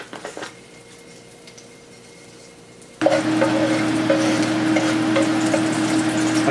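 Garlic dropped into a hot stir-fry pan, a quiet low rumble giving way at once to loud, dense sizzling that continues steadily to the end.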